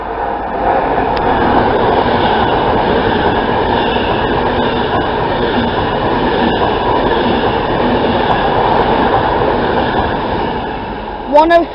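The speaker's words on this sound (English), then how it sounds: "we have a Virgin train service from Edinburgh to London Euston" A Virgin class 390 train from Edinburgh to London Euston speeds through platform 1 at Smethwick Rolfe Street, a loud, sustained rush of wheels and body noise with faint clicks, ending in a brief high squeal.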